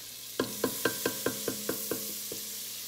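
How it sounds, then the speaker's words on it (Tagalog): Garlic and onion being sautéed in a pan for arroz caldo: about ten evenly spaced, close utensil knocks against the pan over a faint sizzle, each fading quickly, with no talking. "Isa natin yung bawang sibuyas."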